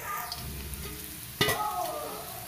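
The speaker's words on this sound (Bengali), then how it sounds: "তো আগে উচ্ছেগুলি ভেজে নিই লাল লাল করে।" Bitter gourd pieces frying in oil in a pan, a continuous close sizzle with stirring scrapes and one sharp clatter midway, no talking.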